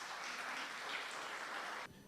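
Applause in a church for newly baptized candidates, a steady crowd of clapping at moderate distance that stops abruptly near the end.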